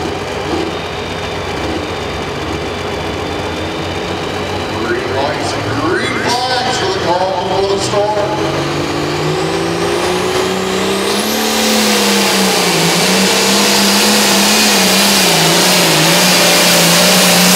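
A pulling tractor at a county fair tractor pull revs loudly, its engine climbing in pitch and roaring steadily at close range, with a public-address voice and crowd noise mixed in underneath.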